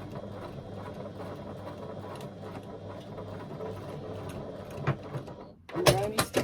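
A Classico Mk2 sewing machine stitches across a fabric bag with a steady, fairly quiet mechanical whirr, then a few sharp clicks and knocks at the end.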